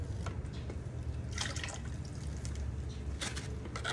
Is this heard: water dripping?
yes